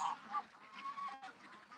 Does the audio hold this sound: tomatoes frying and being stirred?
no